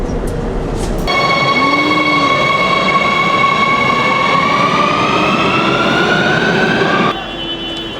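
A metro train sits at a station platform, its loud steady rumble joined by a sustained rising electric whine and tonal hum that cuts off abruptly near the end.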